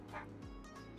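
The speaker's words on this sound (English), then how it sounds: "Sorry about the dog in the background." A dog gives a single short bark in the background, faint and distant behind a quiet room tone.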